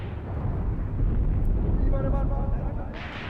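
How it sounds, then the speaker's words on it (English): Very close mortar fire in the video game Graviteam Tactics: Mius Front, set in a Wehrmacht winter battle, gives a loud, continuous deep rumbling roar of blasts that swells and holds throughout. "Some very close mortar fire."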